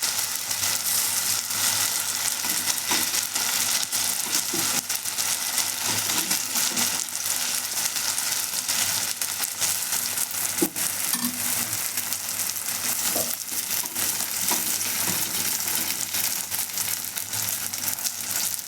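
Paratha made from semolina and poha deep-frying in a ladle of oil on a hot tawa, a steady dense sizzle lasting throughout with faint crackles, close and fairly loud, no voices.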